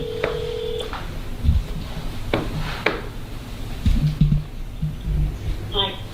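A phone placed on speakerphone dials out, with a steady tone early on, short tonal beeps, and a ring-like burst near the end, all under background noise and low voices.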